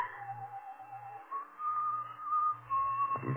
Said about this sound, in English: the slasher whistles that tune.